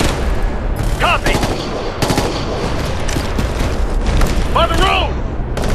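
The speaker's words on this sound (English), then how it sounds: "Mounted MG!" Mounted machine gun firing in Ghost Recon: Future Soldier, heavy continuous gunfire and booms filling the scene while soldiers shout commands over it.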